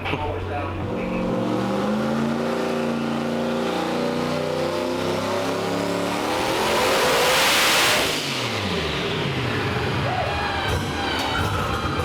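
Boosted car engine revving hard during a power test, climbing in pitch to a loud peak near the end before dropping back, heard close with voices in the background.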